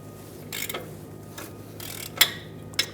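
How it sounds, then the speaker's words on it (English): A 13mm socket ratchet loosens a bracket bolt on the differential of a 2011-2018 Ram 2500 during rear brake hose work, making a few short, close clicking bursts over faint background hum. "Use a 13mm socket and remove this bolt."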